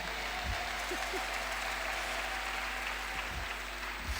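A church congregation at a night prayer service breaks into steady, sustained applause, a dense, even wash of clapping from many hands over a low hum, with a few faint voices underneath.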